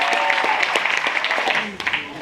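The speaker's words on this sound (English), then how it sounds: "Guys, clap for me as they come." An audience at an evening business event applauds executives walking up, a short burst of crowd clapping mixed with voices and cheering, loud at first and easing off.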